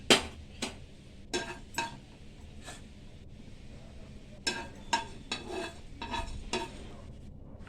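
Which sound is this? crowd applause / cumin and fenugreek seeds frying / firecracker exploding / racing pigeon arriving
cumin and fenugreek seeds frying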